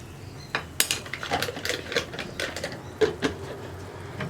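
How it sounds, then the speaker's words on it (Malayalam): Egg being mixed with spices such as turmeric and garam masala in a bowl, heard as close, irregular clinks and taps of a spoon against the bowl with soft scraping in between. "ഇത്രയും ചേർത്ത് നന്നായിട്ടൊന്ന് ഇളക്കി മിക്സ് ചെയ്യുക."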